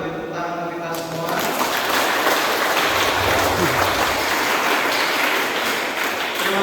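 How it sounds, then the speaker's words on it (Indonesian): Loud, dense applause fills a church hall during a youth Eucharist service, building up after a brief voice at the start and then holding steady for several seconds. "Kita beri tepuk tangan untuk kita semua."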